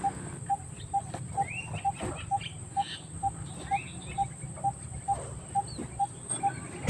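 Garden setting with a regular, evenly spaced chirp repeating about twice a second, alongside a high continuous insect drone like crickets and scattered bird calls, all at moderate distance with faint background rumble.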